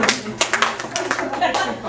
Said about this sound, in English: It's the sprinkler clap.